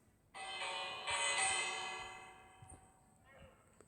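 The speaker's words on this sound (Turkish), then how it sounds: "Zili çal." A single village bell in a Minecraft-style video game rings out clearly with a bright metallic clang, its tone hanging and slowly fading, followed by a softer second strike.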